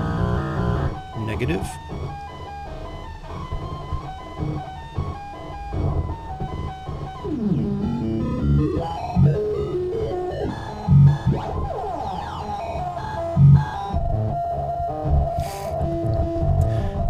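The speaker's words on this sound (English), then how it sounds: "Phase distortion sounds like this." A Bastl Kastle modular synth fed a negative voltage into phase distortion gives harsh, screechy, shifting tones and chaotic bursts, steady and fairly loud, with a voice briefly speaking over it.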